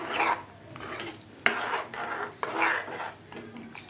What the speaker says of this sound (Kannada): ಎಲ್ಲವನ್ನು ಒಂದು ಮಿಕ್ಸ್ ಮಾಡ್ಕೊಳ್ಳೋಣ ಚೆನ್ನಾಗಿ ನೀಟಾಗಿ ಮಿಕ್ಸ್ ಮಾಡ್ಕೊಬೇಕಾಗುತ್ತೆ